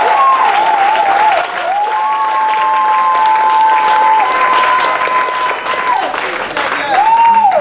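A worship congregation applauds steadily and loudly for the whole stretch, with sustained tones and voices ringing over the clapping.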